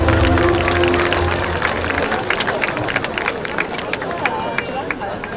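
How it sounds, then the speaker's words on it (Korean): An outdoor festival stage crowd at the Icheon ceramics festival claps in a broad burst that fades out over several seconds into scattered claps and murmuring. "Please give a big round of applause."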